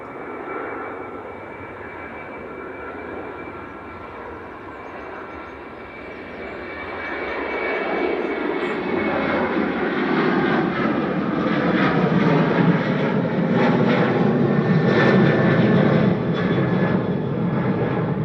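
A Ryanair jet airliner rolls for takeoff at Manchester Airport, its engine roar steady at first, then swelling louder and fuller as it powers down the runway, continuous and close with no talk.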